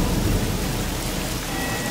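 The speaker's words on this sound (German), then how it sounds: "Was für ein schrecklicher Sturm!" A fierce thunderstorm: heavy rain hisses steadily and thunder rolls low underneath, loud and continuous for the whole two seconds, with no voices.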